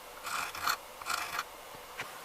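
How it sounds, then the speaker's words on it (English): A Stanley 100-1/2 curved plane iron is rubbed back and forth on a sharpening stone in three or four rasping strokes, slow and steady, fairly close and quiet with no talk. "I've been trying to grind this profile down to a knife's edge on the very tip"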